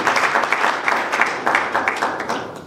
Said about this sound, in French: Je voudrais qu'on applaudisse toutes ces personnes.